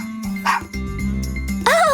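A cartoon dog barks happily in a few short, bright yips over light background music in an animated children's story, lasting about two seconds.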